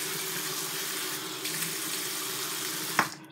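A bathroom sink tap runs in a strong, steady hiss of water close by for several seconds, then cuts off with a short splash at the end.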